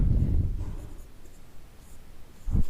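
Chalk or marker writing on a classroom board makes a few short scratchy strokes, a burst at the start and another at the end, with a quiet gap between.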